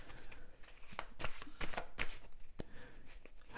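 Tarot cards being shuffled close up in soft, quick riffling flutters with small taps, quiet and steady for a few seconds without speech.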